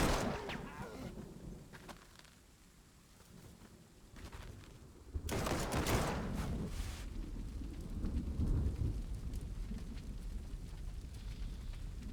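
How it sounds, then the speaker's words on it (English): Rain and thunder in the wartime strategy game Panzer Corps 2, a faint steady rain hiss broken by a loud rumbling thunder crack midway that slowly fades back into the rain. "All right, it's raining."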